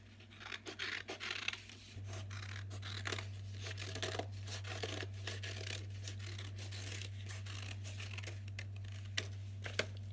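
Scissors snip out a freehand paper base for a handmade paper flower, a close series of crisp cuts and rustling paper strokes over a steady low hum.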